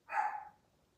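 One sharp dog bark sounds alone at close range, rising quickly and fading within half a second into quiet.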